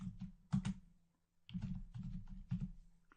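Rapid keystrokes clatter on a computer keyboard as code is typed, steady bursts of close clicking broken by a short pause, with no speech.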